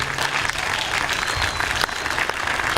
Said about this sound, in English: we want to give one more huge round of applause